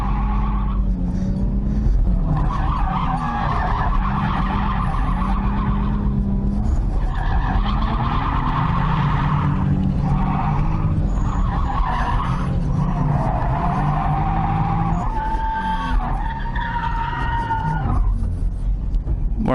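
Stock Nissan 350Z drifting, tires skidding and squealing in long wavering bursts over a steady, loud engine drone, continuous throughout with no talk.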